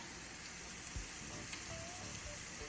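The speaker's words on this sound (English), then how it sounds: "you put in your spices, the curry powder" Curry powder and spices sizzling in a pan of beef samosa filling: a steady, close hiss and crackle of hot oil with faint stirring taps, fairly quiet and without voices.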